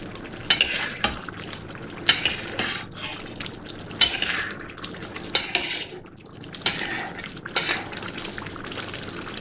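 Mutton is stir-roasted in a karahi, with a spoon scraping and clanking against the metal in a rhythmic series of close, loud strokes over a soft frying sizzle, and no voices.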